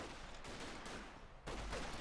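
Gunfire and shelling crackle through a Company of Heroes 2 battle as an assault begins, a dense, fairly quiet wash of shots that jumps louder for the last half second.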